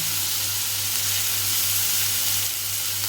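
Onion, tomato, ginger and garlic paste frying in a pan, producing a loud, dense, unbroken sizzle and hiss close by, with a low steady hum underneath and no talking.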